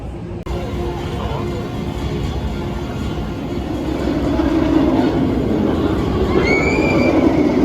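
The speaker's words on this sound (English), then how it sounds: "here's the runaway mine train as we make our way down" The Runaway Mine Train roller coaster at Alton Towers rumbles along its track, a steady rolling roar that grows louder and nearer over several seconds, with faint squeals and some voices nearby.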